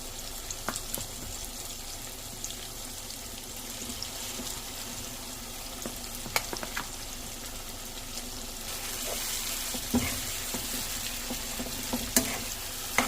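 Chicken frying in a pan with tomato and ginger-garlic paste, giving a soft, steady sizzle with occasional stirring clatter and a faint watery hiss, quiet and with no talk.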